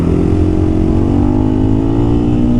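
2023 KTM 500 EXC-F dirt bike engine running close by, a loud steady rumbling drone with a slowly rising pitch as it revs, alone without talk.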